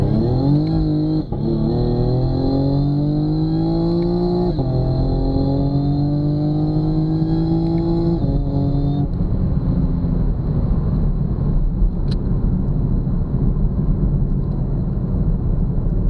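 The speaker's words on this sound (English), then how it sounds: "Okay, my Whine Mod works. I just have a tiny fucking supercharger." Eaton 1.7L supercharger fitted with a whine mod on a 2018 Camaro with the LGX V6, its rising whine riding over loud engine revving up through several gear pulls before the engine note settles into a steady drone.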